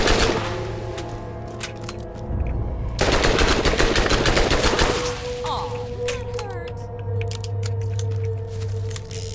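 Rapid automatic gunfire from a Dahl weapon in Borderlands 1, loud bursts with a sustained stretch of firing, over steady game background hum.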